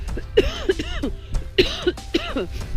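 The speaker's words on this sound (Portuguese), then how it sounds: "Essa tosse da altitude." Repeated harsh coughing fits close by from high altitude on a trek to Gokyo Lake, Nepal, several coughs in quick clusters with short rasping breaths between them.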